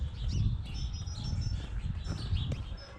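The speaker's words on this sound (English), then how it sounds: "Birds are singing." Birds sing and chirp in the open air on a farm, with repeated thin high calls over a steady low rumble of a nearby diesel digger engine.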